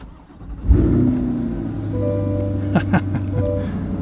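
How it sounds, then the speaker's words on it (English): A V8 sports car engine cranks and fires up with a sharp burst, then settles into a deep, steady idle, with a few soft clicks and beeps inside. "Nice big V8 right behind us."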